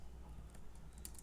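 Quiet keystrokes on a computer keyboard while typing a localhost address into a browser, a few soft clicks rising to a small cluster of taps near the end over a low background hum.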